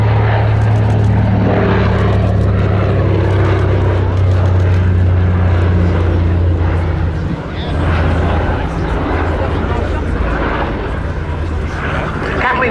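Propeller engines of a Consolidated PBY Catalina flying boat drone loudly overhead at an air show, a continuous deep rumbling roar that holds steady with slight shifts as the aircraft passes.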